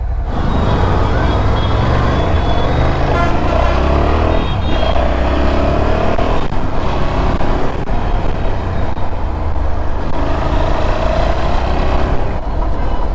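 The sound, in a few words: Triumph Tiger 660 motorcycle engine while riding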